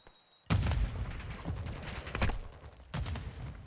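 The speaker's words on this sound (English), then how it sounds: "Wow, that's a grenade." Loud gunfire and explosive blasts from a Call of Duty match, a sharp burst followed by rolling bangs and another hit near the end, close and dense with no talk over it.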